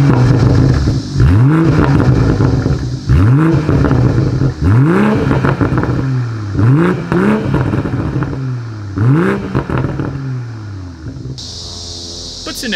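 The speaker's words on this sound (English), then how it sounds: "As always, here is that exhaust clip." A 2020 BMW M340i sedan's engine revs hard several times in a row, each rev rising and falling, loud and close with a rumbling exhaust tone.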